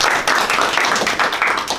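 An audience claps for a speaker at a policy debate forum, a dense, steady burst of many hands applauding close by, with no voices over it.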